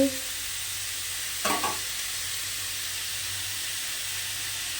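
Snake gourd and shrimp frying in a pan, a steady broad sizzle throughout with a brief burst of louder crackling around the middle as food is stirred.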